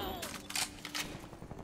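Bursts of MP5 submachine gun fire in the shooter game Call of Duty Cold War, several quick crackling volleys close by within under two seconds over low game background noise.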